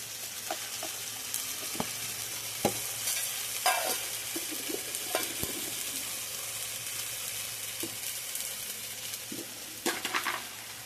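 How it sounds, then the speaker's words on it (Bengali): Spice paste is sautéed in a pan in a home kitchen, a continuous soft sizzle under repeated spatula scrapes and taps on the metal, close and steady throughout. "মশলাটা ভালো করে কষাবো"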